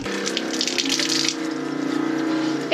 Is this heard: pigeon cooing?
no